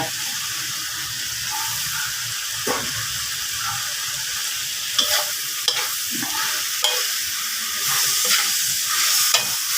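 Chicken stir-fried in a wok with fresh bird's eye chilies, bell peppers, long beans and onion: a loud, continuous sizzle broken by repeated scraping stirs of the spatula, close up and with no talking.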